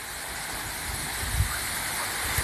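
Garden waterfall, the cascade de l'amour, at the Butte Sainte-Anne in Nantes: a steady broadband rush of falling water, close and continuous, with no voices over it.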